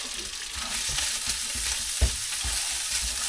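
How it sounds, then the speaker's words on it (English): Egg foo young stir-fried in a pan inside a van: a steady soft sizzle with rhythmic scraping stirs of the utensil against the pan, close up and without speech. "And then stir fry again."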